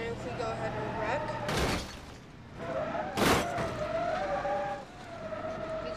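A car wrecks in the BeamNG.drive driving game, with two loud broadband crash impacts about two seconds apart over steady engine hum and tonal whine, and speech running through.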